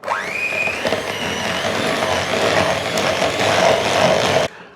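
A hand whisk beats softened butter in a jug, giving a steady, fairly loud, continuous whirring and churning that runs for several seconds and then cuts off abruptly.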